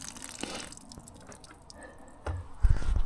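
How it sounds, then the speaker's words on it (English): Water splashing and dripping from an outdoor spigot along a trail on the Pennsylvania–Maryland border in winter, a brief close gush that grows louder toward the end. "This is gonna be the first spigot that actually works for me."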